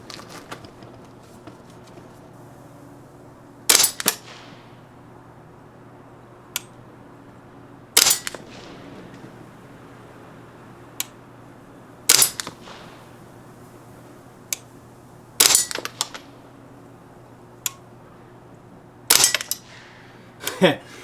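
A Ruger 10/22 rifle fires Federal Gold Medal Match .22 LR rounds: about five sharp, loud single reports spaced several seconds apart, with fainter clicks in between.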